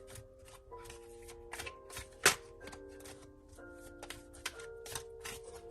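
Tarot cards being shuffled by hand, a continuous run of quick papery flicks and taps at close range, quiet with one sharper snap midway, over faint background tones.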